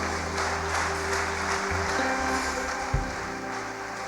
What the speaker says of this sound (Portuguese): Se quiser, dê uma salva de palmas ao Senhor.